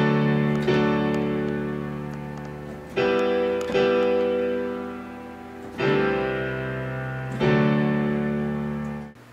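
A keyboard plays a slow chord progression for a song composition, four sustained full chords struck a couple of seconds apart, each ringing and gradually decaying, close and clear with no voices.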